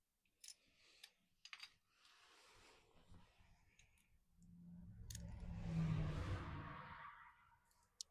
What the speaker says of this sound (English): The car just blew past. Very loud.